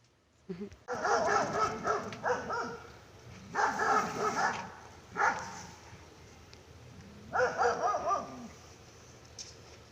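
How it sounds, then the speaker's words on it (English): Dogs bark in several loud bursts at a moderate distance, separated by quieter pauses with a few yips. "right then the dogs actually started barking"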